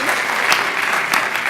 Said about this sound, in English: You don't have to clap for everyone.